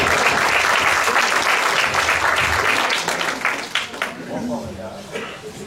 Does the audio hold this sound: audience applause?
yes